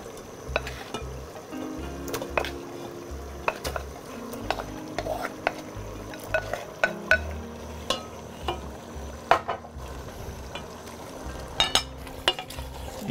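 Marinated beef stirred and fried in a pan for an achari beef dish, with repeated scraping stirs and clinks over a steady sizzle, close and fairly loud, no talking.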